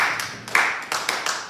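A congregation at a French-language church service claps in a steady rhythm, several crisp claps close together within a couple of seconds.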